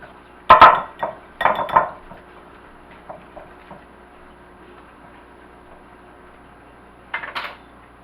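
A utensil clatters against a mixing bowl as lemon pie cobbler ingredients are stirred together: a few sharp clinks and scrapes near the start, quiet in between, then another short burst near the end.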